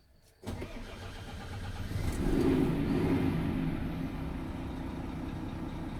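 A semi-trailer truck engine cranks and catches after a short silence, then settles into a steady low idle, close by with no talking.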